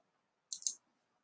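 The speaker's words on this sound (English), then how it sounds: "I'm going to show my other parts now by clicking on the icon." A single quiet computer mouse click, made while selecting a part icon in the OnShape CAD program, sounds as a brief sharp double tick in an otherwise silent room.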